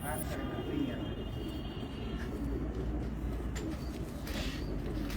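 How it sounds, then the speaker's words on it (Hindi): Pigeons coo softly amid a busy, noisy background at a crowded pigeon fair in Karachi, with people talking nearby throughout. "ये कबूतर बहुत ही शानदार।"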